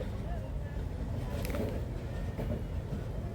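A train with engine trouble moves very slowly past a rail gate in Joypurhat, making a faint, continuous low rumble with a few soft clanks and background noise.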